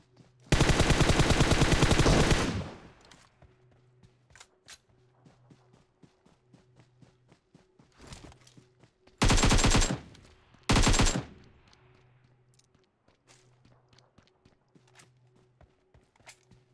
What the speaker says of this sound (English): Just heard shots in the distance.